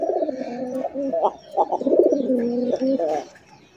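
A pair of Rasgolla pigeons coo in deep, throaty, rolling phrases, the female answering the male, several calls overlapping steadily and close by, with a brief pause near the middle.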